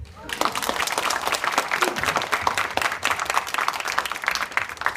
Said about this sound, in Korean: 박수 한 번만 더 줘요